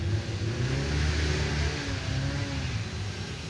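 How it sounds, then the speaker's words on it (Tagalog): Traffic on a nearby highway: a continuous loud rumble of passing cars and engines, swelling and easing as vehicles go by, with no voices. "maingay yung mga sasakyan malapit tayo sa highway"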